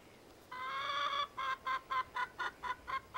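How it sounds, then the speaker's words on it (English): A hen clucks close by, one drawn-out call followed by a quick run of about eight short, evenly spaced clucks, clear and alone. "She makes a cluck-cluck sound."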